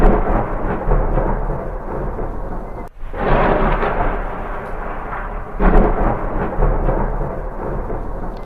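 Heavy thunder rolls over steady rain in a rural farming village at the start of the monsoon, loud and close, with a brief dip before the rumbling surges again.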